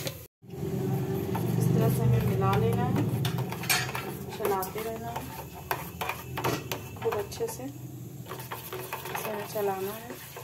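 Custard and milk stirred in a pot with a utensil, giving a steady scraping and clinking against the metal that runs throughout, with a voice talking over it.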